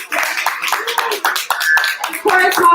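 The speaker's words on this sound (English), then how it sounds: "Yes, round of applause." Crowd applause at a live event in Atlanta, a dense wash of clapping that runs the whole moment, loud and close, with voices and cheers mixed in beneath it.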